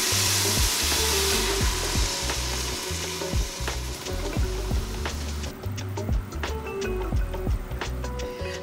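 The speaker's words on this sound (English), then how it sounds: "as the beer is still cooking down" A pot of chili made with beer, jalapenos, oregano, cumin, cayenne and tomato paste simmers and sizzles steadily while being stirred, with repeated close scraping knocks of a utensil against the pot.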